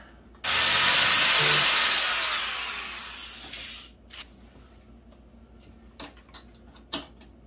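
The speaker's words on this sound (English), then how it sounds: "Come in here and drill it." An electric drill bores a hole for a ballast resistor on a Ford-style starter setup in one loud, hissing run of about three seconds that tapers off. A few sharp clicks and taps follow.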